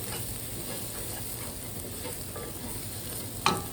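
Onions cook in a pan for a curried butternut squash and apple soup, making a quiet, even sizzle with faint stirring and one sharp click near the end.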